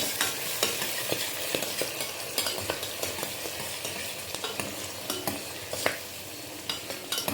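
Onions and fenugreek leaves fry in a pan with a continuous close crackle, broken by frequent scraping strokes of a spatula stirring through them.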